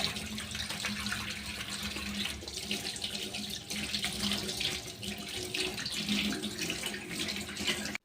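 Fish being rinsed under a running kitchen tap, water streaming steadily into a sink with splashing as the fish is handled, continuous and close throughout.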